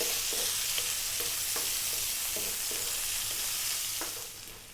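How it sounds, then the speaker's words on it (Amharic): Onion and garlic fry in hot oil with a steady, close sizzle while being stirred, the scraping strokes coming in a regular rhythm before the sound fades slightly at the end. "ሽንኩርታችንን እንጨምራለን። ነጭ ሽንኩርት እንጠብሳለን ለ3 ደቂቃ።"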